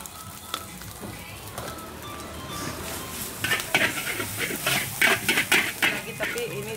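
Nasi goreng, a red special fried rice with shrimp cooked fifteen portions at a time, sizzles in a wok. From midway the spatula scrapes and clanks rhythmically against the metal, and voices talk in the background.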